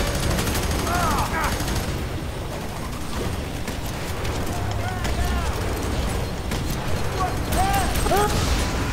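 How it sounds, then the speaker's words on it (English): Sniper rifle gunfire in the video game F.E.A.R. 3: sharp shots and rattling bursts over a dense, continuous wash of combat noise, with a voice talking throughout. "More sniper rifle bullets."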